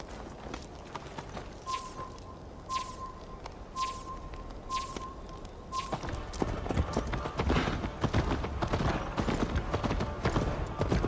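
Horse hooves clip-clopping in Assassin's Creed Valhalla, a steady galloping rhythm of close, distinct hoofbeats that grows louder and busier toward the end, with brief tonal chimes early on.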